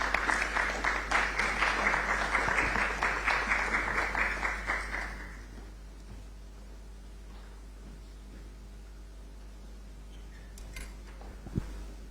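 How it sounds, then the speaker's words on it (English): At a public forum on media and democracy in Ghana, an audience applauds to welcome a keynote speaker; the brisk clapping lasts about five seconds, then fades to a quiet room with a steady low hum and a few faint knocks. "with a round of applause. Let's welcome him."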